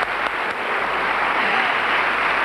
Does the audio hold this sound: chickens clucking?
no